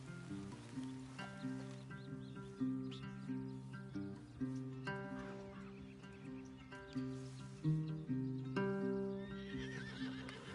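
In Red Dead Redemption 2, a horse whinnies amid clip-clopping hooves, layered over sustained tonal game music that runs throughout.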